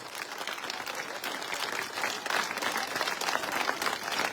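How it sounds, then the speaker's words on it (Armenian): A crowd at a political rally breaks into sustained applause, many hands clapping densely and evenly, swelling slightly midway and holding strong to the end. "խնդրում եմ ինչքան տեսնում եք, այդ չափից ծափահարեք"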